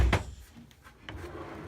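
A wide wooden drawer, about 35 inches across, in a wood shop slides open or shut, with one sharp close thump at the start followed by a quieter rolling rumble.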